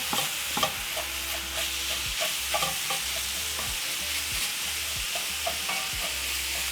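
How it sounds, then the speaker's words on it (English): Ground meat and onions flavoured with spices fry in a pan under a loud, constant sizzle, while a spoon stirs and scrapes through them in a repeated rhythm close by. "So as the meat is cooking, I'm stirring in the onions, which have a lot of flavor from the spices."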